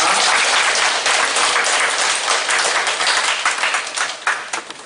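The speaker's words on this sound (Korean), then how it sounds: "서로 축복한 박수 보내드리겠습니다." Church congregation applauds during a worship service, a loud, dense burst of clapping from many people that thins out and becomes more scattered toward the end.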